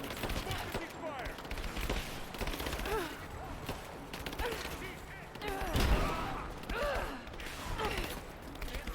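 Bursts of gunfire in Rise of the Tomb Raider during a firefight, scattered shots and rattling volleys mixed with mechanical clatter and thumps, with game voices talking now and then.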